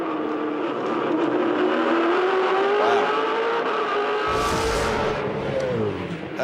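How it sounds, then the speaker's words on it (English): A 2007 V8 Supercar, car 33 in the Valvoline entry, races past at the Gold Coast street circuit, its engine roaring loudly and steadily with pitch shifts as it nears and passes, then briefly fading. "And then here comes Lee, car 33 in the Valvoline entry"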